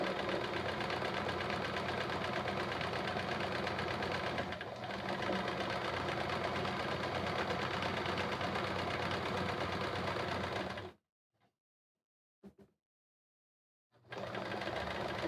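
A sewing machine doing free motion quilting runs in a loud, continuous, rapid mechanical whir for about eleven seconds, stops with near silence and a brief tap, then starts running again.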